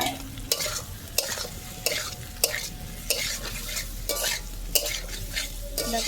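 Potatoes frying in a pan and being stirred, a steady close sizzle broken by regular sharp scraping strokes about every half second to second.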